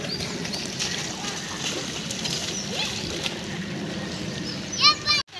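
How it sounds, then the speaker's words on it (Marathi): Water flows and splashes into a farm field at planting time, a steady low rush with sharper splashes near the end, while voices, including a child's, talk faintly nearby. "आता पाणी पण आले आहे."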